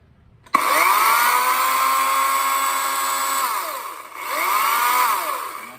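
An electric chainsaw runs indoors. It starts abruptly and holds a steady, high-pitched motor whine, dips briefly, then revs back up to full speed. The sound is close and loud with no talking.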